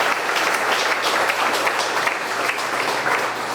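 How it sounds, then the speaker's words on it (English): Brief, steady burst of audience clapping at a high school hall of fame induction ceremony, loud and dense throughout with no pauses. "Let's give them a big round of applause"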